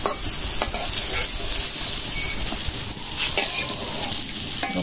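Food slowly fries in a pan for a long time for a home-cooked mash dish, with a continuous close sizzle broken by occasional stirring scrapes.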